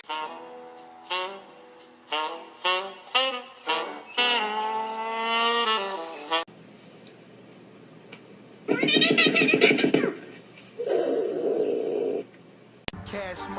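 A cat meows repeatedly up close in a rapid series of loud, drawn-out calls, followed by longer, rougher yowls after a quiet stretch.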